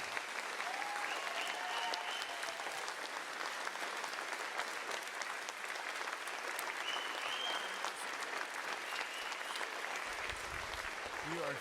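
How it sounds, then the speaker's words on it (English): A church congregation at a 30th birthday celebration applauds its leaders Wes and Claudia, dense continuous clapping with scattered whoops, fairly distant and steady, before a voice comes in at the end. "Y'all join me in giving a round of applause for your leaders"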